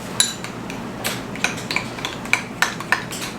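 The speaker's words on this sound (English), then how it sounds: "now we can go ahead and mix that all together." Utensil scraping and clinking in a dish while mixing a ketchup and brown sugar meatloaf glaze, a run of sharp metallic taps and clicks at an uneven rhythm, close and fairly quiet, with no talking.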